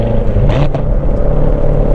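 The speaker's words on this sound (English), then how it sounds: "It does a really nice sounding exhaust noise." A manual Chevrolet Corvette C7 Z06 downshifts from third to second with rev matching, its exhaust giving a loud, steady close-up drone with a brief rising blip.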